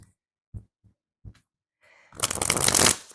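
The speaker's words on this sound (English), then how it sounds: "And I am shuffling the cards for you." A few soft, isolated taps and breaths, then a burst of tarot cards being shuffled, a rapid riffling flutter that lasts under a second, close and fairly loud.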